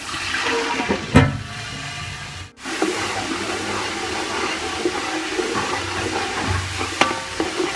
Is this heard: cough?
no